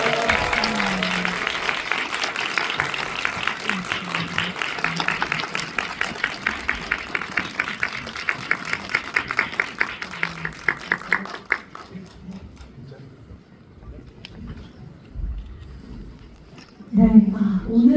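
Audience applause at a film screening with a guest-visit talk, a dense crowd clapping in rapid rhythm for about ten seconds before fading to scattered claps and a quiet hall.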